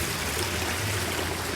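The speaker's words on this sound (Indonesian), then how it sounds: "Di sebelah kanan saya ada aliran sungai kecil." A small river stream flows beside a forest footpath on the way to a waterfall near Prigen, Pasuruan, a loud continuous rushing wash with no breaks.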